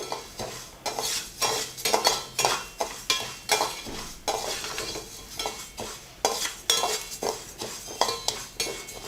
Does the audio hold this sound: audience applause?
no